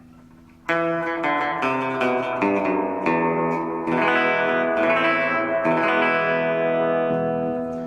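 An electric guitar plays chords through a Fender Tone Master Twin Reverb amp with reverb, notes ringing and washing together, loud and sustained throughout.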